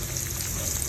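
Onion and garlic sautéing in a pan of oil, a brief continuous bright sizzle and crackle at steady loudness, close up.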